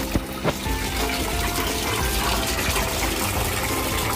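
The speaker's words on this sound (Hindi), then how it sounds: "फाउंटेन में रखी सीप से गिरता हुआ पानी देखिए कितना सुंदर दिखाई दे रहा है" Water spilling from a seashell in a small homemade fountain set in a balcony corner, a loud, continuous close splashing flow that runs steadily throughout, with no voices.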